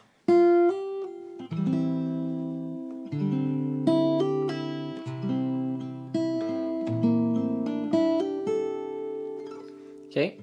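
Fingerstyle guitar plays a passage with hammer-ons and pull-offs, plucked melody over sustained bass notes, close and clean, ending with a brief string squeak.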